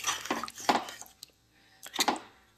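Metal spoon scraping and clinking in a pot while stirring roast masala with whole green chillies for a Bengali wedding-style chicken roast, a few close bursts of scraping separated by short pauses.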